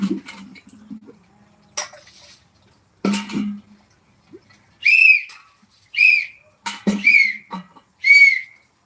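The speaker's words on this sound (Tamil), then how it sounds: "விசில் அடி பார்க்கலாம்" A person whistles to call someone, giving several short, sharp rising whistles in separate bursts, close and loud, with brief talk and a few knocks between them.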